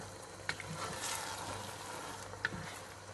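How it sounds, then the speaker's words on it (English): Taco-seasoned burrito filling sizzling quietly in a pan as it is stirred, a soft continuous fry with a couple of faint utensil taps, no talking. "And then give it a good stir."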